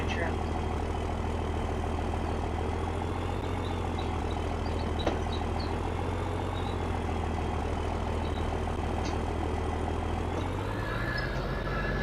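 An old former firewood truck idles with a low, steady diesel rumble while backing into a small driveway, sounding close and continuous, with faint clicks and a brief higher whine near the end.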